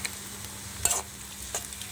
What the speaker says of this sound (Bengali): আদা রসুনের পেস্টটাকে আমি অল্প একটু ভাজা ভাজা করে নেব